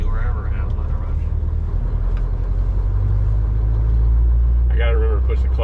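A Scania truck drives in traffic, its engine a deep low drone that shifts pitch as the gears change, with a voice talking over it near the end.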